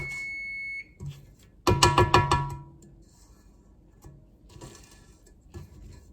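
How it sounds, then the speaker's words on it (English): A kitchen timer beeps with a steady tone during cookie baking, then a quick run of sharp rhythmic beeps as it is switched off, followed by quiet kitchen handling sounds. "Let me just kill that timer while we're here."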